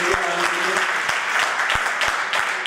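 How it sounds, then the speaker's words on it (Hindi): Loud sustained applause from a crowd at a Martyrs Day commemoration event, dense clapping with a few sharp individual claps standing out, continuous throughout. "तो इनके लिए भी जोरदार तालियां होनी चाहिए तमाम मीडिया वालों के लिए।"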